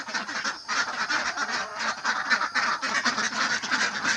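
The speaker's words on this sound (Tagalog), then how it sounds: "kakawala na natin yung ating mga itik" A flock of domestic ducks quacks noisily and continuously, many overlapping calls close by, loud and busy throughout with no talk.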